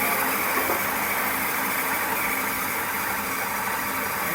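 A belt-drive CNC milling machine spindle, an old neglected machine with a slightly dry belt, runs as a loud steady whir and hum that rises and eases in speed, with no talking over it.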